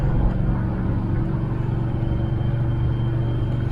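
A 1983 Oldsmobile Cutlass Supreme Hurst/Olds, on its first drive after sitting twelve years, rumbles steadily from inside the cabin with a low, constant engine and road drone.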